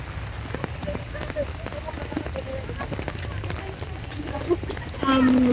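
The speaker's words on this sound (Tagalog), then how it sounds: "medyo lumalakas na po yung ulan" Rain falls steadily outdoors in cool highland Baguio, a dense hiss of drops building in strength, then a louder engine-like drone cuts in at the end, with people talking over it.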